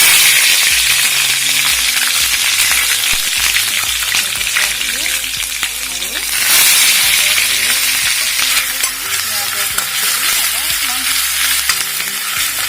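Green chillies frying and being stirred in a pan with whole cloves, cardamom and cinnamon, a loud continuous sizzle with scraping stir strokes throughout, close and steady.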